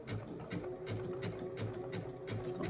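A sewing machine runs steadily while zigzag stitching a hexagon applique, its needle producing a quick, even mechanical pulse at close range with no talking.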